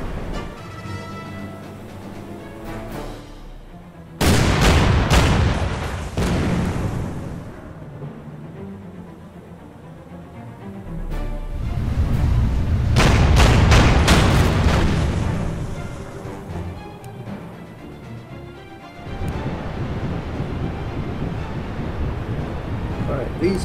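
Naval guns firing on a battleship in the WW2 strategy game Order of Battle, two heavy booming salvos with rumbling tails separated by quieter stretches, loud and close.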